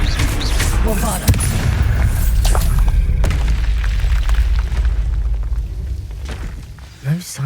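Bombarda blasting spell exploding in Hogwarts Legacy: a heavy, loud boom with crumbling debris and a long rumbling tail, close by, followed by quieter combat noise and a speaking voice.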